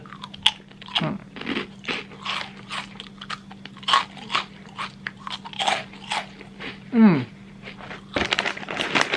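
Crunchy squid-flavored rice crackers of the Miaow Miaow brand being bitten and chewed up close, repeated crisp crunches with a voice speaking briefly in between.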